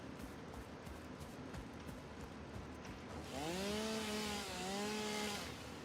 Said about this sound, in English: The worst thing about the chainsaw is hearing this over and over again